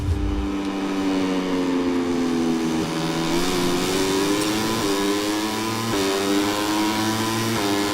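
A motorcycle engine in the MotoGP 24 racing game revs continuously for the whole stretch, its pitch climbing and dipping with gear changes, loud and steady with no talk over it.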